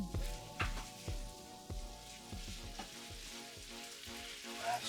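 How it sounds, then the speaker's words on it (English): Shrimp scampi noodles being stirred through a sizzling sauce in a pan, with sharp metallic clanks and scrapes of the utensil over a steady bright frying hiss, close and continuous. "Now, give it a nice stir."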